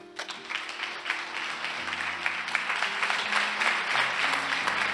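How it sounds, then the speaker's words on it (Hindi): Audience applause at a Hindi church sermon on fasting, a steady wash of many hands clapping that holds for several seconds, fairly soft and roomy, while faint low sustained music tones run beneath. "तालियां बजाइए।"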